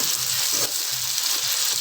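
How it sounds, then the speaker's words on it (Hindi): Okra (bhindi) frying in oil in a pan hisses in a continuous, even sizzle close by, with no voices. "भिंडियाँ हमारी फ्राई हो रही हैं"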